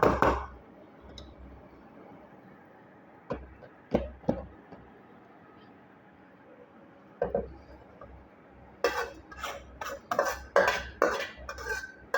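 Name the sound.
egg thoran being moved from a pan into another vessel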